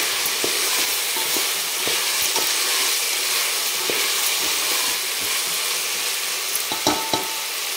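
Ginger-garlic paste and biryani masala sizzle steadily in a hot frying pan while a spoon stirs them, scraping and clicking irregularly against the metal close by.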